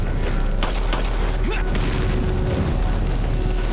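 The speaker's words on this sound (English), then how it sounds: "Stop throwing grenades at me." Grenades go off in Resident Evil 4 during the Krauser fight, a dense run of booming blasts and sharp bursts over constant game rumble and mechanical noise, loud and close.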